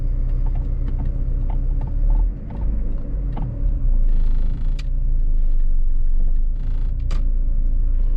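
A 2003 Opel Corsa 1.4 petrol car pulls off at the start of a drive, with a steady low engine rumble and interior mechanical clicks and rattles close by and no talking.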